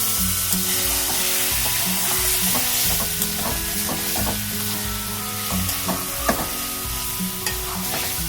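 Mutton for biryani sizzles and is stirred in a pot as its reserved stock goes in, a steady loud frying hiss with scraping and clinks throughout, no voices.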